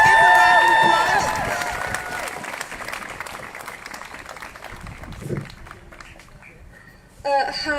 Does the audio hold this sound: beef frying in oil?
no